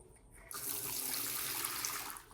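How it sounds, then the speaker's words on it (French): Tap water runs from a washbasin in a workers' living unit on a farm, starting after a brief quiet moment and then pouring as a steady, strong, hissing stream at close range, no voices. "Il y a de l'eau potable qui sort."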